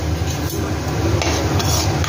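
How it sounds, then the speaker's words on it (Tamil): Cumin seeds splutter in hot oil in a pan for curry leaf thokku, making a dense, continuous crackle with small pops, close and fairly loud. "ஜீரகம் போட்டால் உடனே பொரிஞ்சிரும்."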